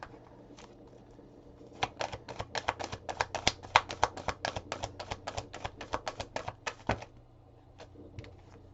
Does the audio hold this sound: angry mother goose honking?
no